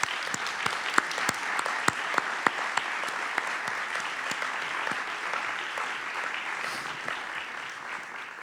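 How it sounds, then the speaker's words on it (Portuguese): A festival audience at the opening of a Portuguese cinema festival claps steadily in a large hall, a dense continuous patter punctuated by sharp individual claps standing out near the front. "Eles merecem o primeiro aplauso do festival."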